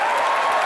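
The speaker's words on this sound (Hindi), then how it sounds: "जोरदार ताली बिपाशा के लिए" A studio audience at a Hindi television comedy show applauds in a brief, dense burst of even clapping with no voices on top.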